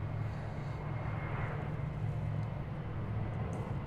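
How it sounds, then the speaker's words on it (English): An American Airlines jet takes off from runway 36 right at Dallas/Fort Worth airport, a steady, loud, broadband engine roar with a low hum, continuous throughout with no voices. "Watch out for American Airlines Flight 448. RNAV Haskell, clear for takeoff 36 right"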